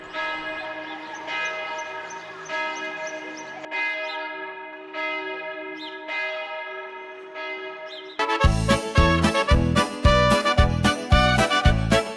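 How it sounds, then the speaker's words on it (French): Church bells in Mittenwald, a Bavarian village, ring out with a sustained, overlapping harmonic peal, then a louder, faster clanging of bells takes over near the end, with no talk. "quand on entend les cloches des églises"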